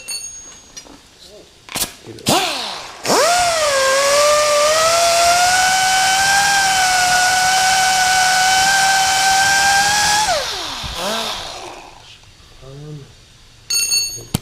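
A power tool cleans up burrs around a hole in metal on a 1991 Honda CRX. It makes a loud, steady high-pitched whine for about seven seconds, rising as it spins up and dropping as it stops, with clanks around it.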